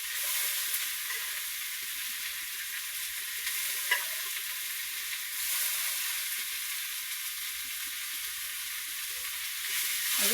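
Radish greens and a fish head sizzle gently in a pan for about ten seconds, the steady frying hiss marked by a few soft stirring scrapes and one brief clink, with no voices.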